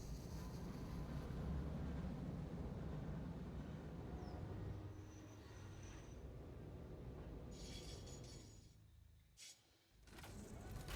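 A train in the video game Satisfactory rumbles along in a low, continuous roar that fades out toward the end, with no talk over it.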